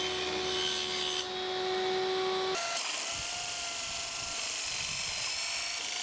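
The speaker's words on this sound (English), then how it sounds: "All parts are then sanded smooth so that they can slide past each other easily." Wooden blast gate parts for a dust extraction system being sanded smooth, a continuous close rasping rub after a powered tool's steady hum cuts off.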